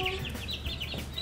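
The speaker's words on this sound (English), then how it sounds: "Chicks are happy. Chickies are happy." Young chicks in a homemade pallet-wood brooder cluck and peep in quick, overlapping bursts, close and fairly soft, with a steady low hum underneath.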